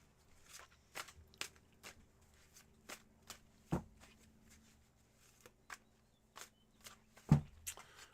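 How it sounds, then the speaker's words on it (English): Tarot cards being shuffled during a tarot reading: a run of soft riffling and tapping clicks in an irregular rhythm, close and fairly quiet, with a couple of sharper knocks and no talking. "Here we go with your shuffles then."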